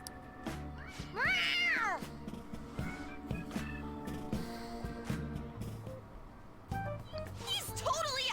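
A cat meows in the video game Persona 5 Royal, a short rising-and-falling cry over game music and voices talking.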